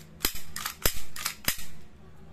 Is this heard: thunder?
no